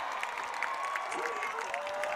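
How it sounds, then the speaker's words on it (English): Crowd noise at a high school varsity football game, Arcadia versus Coconino, swelling steadily during a 40-yard field goal attempt, with a continuous loud roar of cheering and applause under a commentator's voice. "Coconino crowd gets loud"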